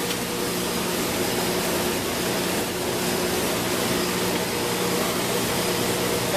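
Seed cleaning machine running steadily while cleaning wheat into three grades, with recirculated grain; a continuous, loud, even mechanical roar and hum with no breaks.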